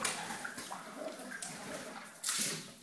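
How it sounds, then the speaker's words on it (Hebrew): Water splashes and churns steadily as an old stone cistern fed by a spring is scrubbed out, with a louder rushing surge near the end. "עכשיו חיים מנקה את הבאר."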